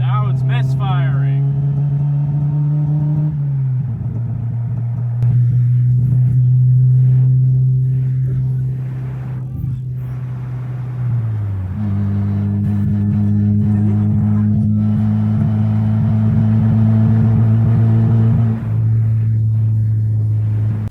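A Mazda Miata engine runs nearby with a steady low drone that steps down and later up in pitch, its rough, uneven note pointing to a misfire, with some rumble and clatter around it.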